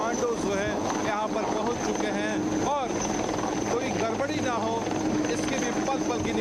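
An attack helicopter flies over the sea at night during an Indian Coast Guard commando operation, a loud, steady rotor and engine roar mixed with wind buffeting, while someone talks over it throughout.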